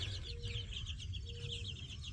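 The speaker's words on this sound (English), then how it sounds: "you're in a chicken tractor and you're a little 3-week-old chick?" A three-week-old chick in a chicken tractor peeps in quick repeated chirps over low soft clucking from nearby fowl, close and continuous without any talk.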